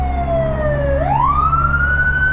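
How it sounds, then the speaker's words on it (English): An ambulance siren passing on a road, loud and close, its wailing tone sliding down then sweeping up again over a steady low traffic rumble. "there's an ambulance coming with his lights on"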